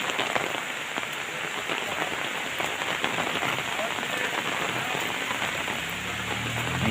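Steady rain pattering on surfaces near a chapel, a dense continuous hiss with scattered drop impacts throughout, fairly close and even in level.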